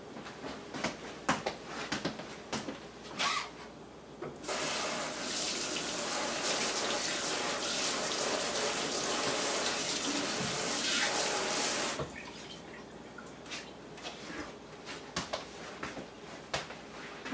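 Tap water runs steadily from a kitchen faucet into a sink for hand washing, a loud continuous broadband gush lasting several seconds, with handling clatter before and after.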